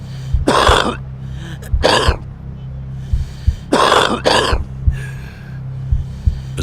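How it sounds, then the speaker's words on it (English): A smoker coughs hard and close up, four harsh, raspy bursts coming in two pairs with short wheezy breaths and gaps between them. "A smoker's cough is not just a sign you're damaging your lungs."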